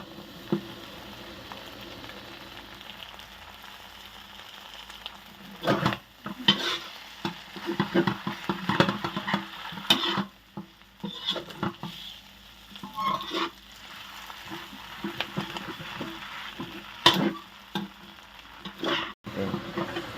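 Noodles and other ingredients stir-fried together in a pan: a steady sizzle with repeated scraping and tossing strokes of the spatula, close and continuous, with no talking.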